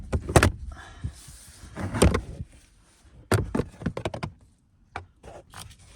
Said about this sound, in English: First is to remove this panel right here.